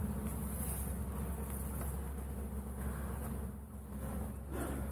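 Honeybees swarm around an open hive box full of brood during an inspection, a dense continuous buzzing drone close by that swells and dips slightly as individual bees fly past, with no talking.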